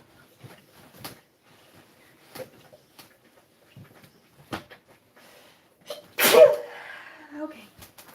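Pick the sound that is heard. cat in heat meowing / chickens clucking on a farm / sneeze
sneeze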